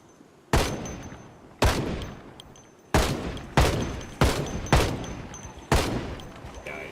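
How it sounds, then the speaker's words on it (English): Gunshots fired in the Project Zomboid video game: seven sharp reports at irregular intervals, each with a short decaying tail, loud and close with no voices. "he's just shooting everything else, except for the person I want them to"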